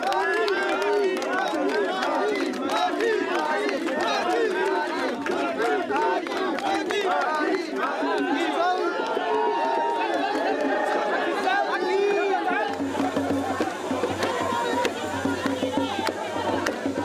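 A large, dense crowd on the esplanade of El Hadj Omar Bongo international airport in Libreville greets two heads of state, with continuous cheering, shouting and chatter. Near the end a low steady hum enters beneath it.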